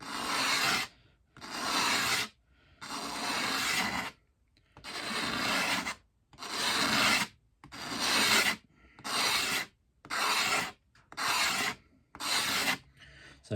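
Steady back-and-forth rubbing cleans a chalky, oxidised guard, about ten close, even strokes with short gaps between them.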